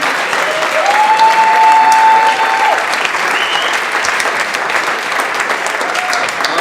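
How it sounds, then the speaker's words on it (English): A large crowd at a startup pitch competition finale gives dense, loud, sustained applause throughout, with a brief electronic tone sounding over it. "a big round of applause for all of our TechFlash competitors"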